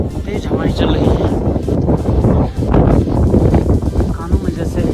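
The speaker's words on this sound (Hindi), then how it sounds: "यहाँ काफ़ी तेज हवाएं चल रही हैं" Strong mountain wind roars steadily and close on a trek at Brahmatal in Uttarakhand, a dense continuous buffeting rush with no voices.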